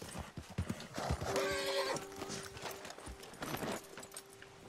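Horse hooves clip-clop steadily with a neigh or whinny rising midway, set in the Western game Red Dead Redemption 2, fairly close and moderately loud over background ambience.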